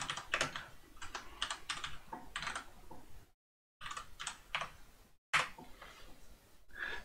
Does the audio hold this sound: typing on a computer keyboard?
yes